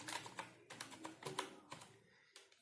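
Fingers type an SQL query on a computer keyboard in quick clustered bursts of clicky keystrokes, close up, with short pauses between groups and no voices.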